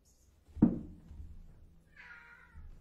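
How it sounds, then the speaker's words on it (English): A cat meows once in a short, rising cry near the end, after a sharp knock-like thump, with a quiet room behind it. "Look at this beautiful cat."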